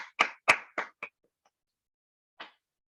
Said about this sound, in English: Let's give a round of applause to both the evaluators.